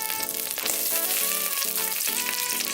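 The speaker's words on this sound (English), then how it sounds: "So I've been frying my onion for about 2 minutes." Green onion frying in coconut oil in a pan, a loud, continuous close-up sizzle that holds steady throughout, with no voices over it.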